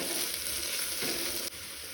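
Chopped onions and two green chillies sizzle and crackle steadily in a hot pan, close and fairly quiet, with a brief stir partway through.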